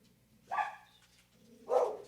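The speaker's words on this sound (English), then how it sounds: "Oh, we've got a dog explosion." Dogs bark twice, a sharp yap followed by a louder bark about a second later, fairly close in an otherwise quiet room.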